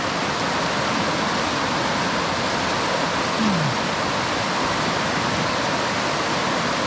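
A river in the Mount Rufus area of Tasmania rushes steadily past close by, a loud, unbroken broadband roar with no pauses and no voices.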